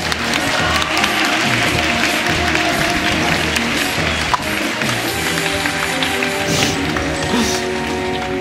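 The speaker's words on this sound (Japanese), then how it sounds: "決勝を戦ったお二人にもう一度大きな拍手をお願いいたします。" Steady, dense applause from a tournament audience for the two grand finalists at a Super Smash Bros. for Wii U event, a sustained crowd clapping filling the room for several seconds.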